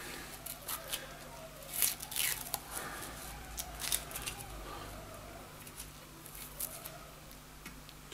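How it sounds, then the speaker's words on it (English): Low tack masking tape being torn and handled while re-tipping a snooker cue, a few soft ripping and crinkling bursts spread through a quiet room, fairly close and faint. "This is low tack masking tape."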